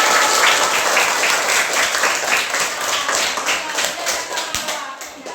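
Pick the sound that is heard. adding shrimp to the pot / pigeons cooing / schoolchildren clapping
schoolchildren clapping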